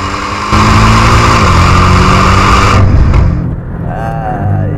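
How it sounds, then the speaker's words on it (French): A Porsche Cayman S flat-four engine roars loudly and steadily close by, then the revs drop and settle into a lower, uneven rumble near the end. "On n'a plus le flat 6, on a un flat 4. Et croyez-moi, le son est"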